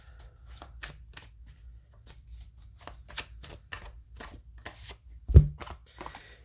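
Angel oracle cards are shuffled close by in a quick rhythmic run of soft riffling taps, ending in a sharper knock, with no voices.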